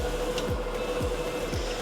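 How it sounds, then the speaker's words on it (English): A DTF printer printing gang sheets and feeding film toward a curing oven, a steady mechanical hum with three evenly spaced low thumps as the print head moves. "So as the DTF printer is tirelessly printing, it's feeding the paper down into the oven."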